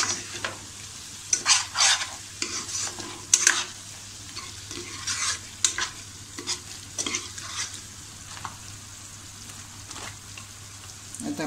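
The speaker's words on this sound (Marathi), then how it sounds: "याच्यामध्ये हलक्या हाताने परतून घेऊया." An egg biryani mixture is sautéed and stirred in a pan, with a soft continuous sizzle and scraping spoon strokes coming in uneven bursts, close and moderately quiet.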